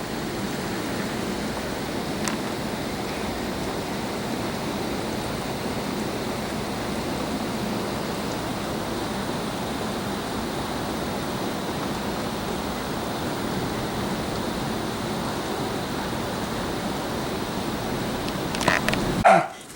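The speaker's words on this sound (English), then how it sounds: "It's pouring." Heavy rain pours outside on a rainy Sunday, a dense, steady hiss that holds unbroken throughout, with a brief louder clatter near the end.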